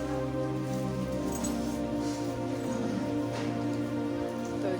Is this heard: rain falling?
yes